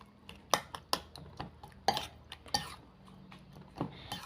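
A spoon clinks and scrapes against a dish of naem sausage with rakhang mushrooms, giving sharp, irregular metallic taps close by with short quiet gaps between them.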